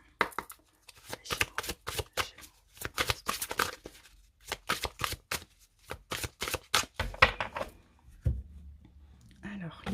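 Tarot cards are cut and shuffled in quick bursts of crisp riffling slaps, close and fairly loud, with a brief pause midway and a short soft voice near the end.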